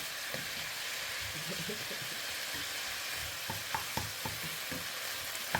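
Leftover vegetables being stir-fried in a pan, a steady, even sizzle under scattered soft scrapes and taps of a spatula, close and continuous with no talk.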